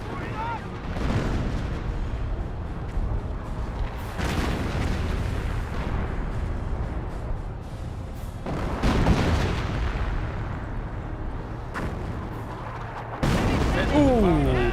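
Mortar fire in the World War II strategy game Company of Heroes, from an M2 60mm mortar: several heavy booming impacts spaced through a running battle soundscape, with a caster talking throughout.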